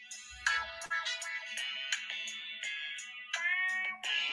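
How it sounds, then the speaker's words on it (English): Mobile phone ringtone of bright melodic tones in short repeating phrases over a few seconds, moderately loud and near, with no talk over it. "Oh, that was my phone."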